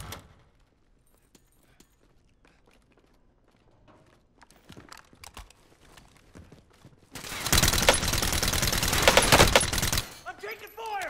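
Gunfire in Call of Duty Warzone, first scattered distant shots and clicks, then a loud sustained burst of rapid automatic fire for about three seconds before it stops abruptly.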